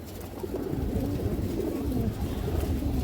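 Pigeons coo in a steady low murmur among a flock of full down-shape show birds, close and continuous with dense rumbling texture throughout and no talk.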